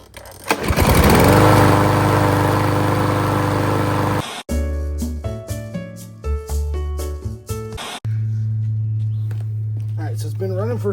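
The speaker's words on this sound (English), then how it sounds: "start the motor on the lawnmower and let it run for a couple of minutes to warm the oil up" A Troy-Bilt TB230 lawnmower engine starts and runs loud and close, a steady, throaty drone that is interrupted by cut-up, choppy segments before the even running returns.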